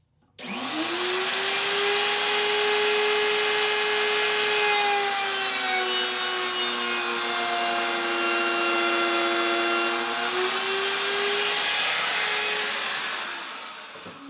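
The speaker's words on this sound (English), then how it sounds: "I've got the jig set up again and the router ready to go." A router cuts dovetails into wood held in a jig, one loud, steady high-pitched whine lasting about fourteen seconds with a brief spin-up at the start and a wind-down at the end, up close with no talking.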